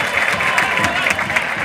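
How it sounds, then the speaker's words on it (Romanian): Spectators in the stands at a third-league football playoff match clap and cheer for a player, a dense burst of applause and crowd noise heard from a distance, with a commentator talking over it. "Aplaudat la scenă deschisă Pureca de tribuna întâi"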